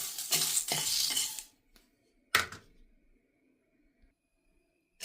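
Horse gram, urad dal and dried chillies are dry-roasted in a pan, heard as a close, rough scraping stir and rattle for over a second, then a second brief stir before near silence.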